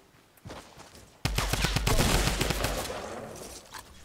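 Gunfire in a Fortnite duos match, a sudden burst of rapid, loud shots after a quieter stretch with a few footsteps, continuing in quick repeated bangs.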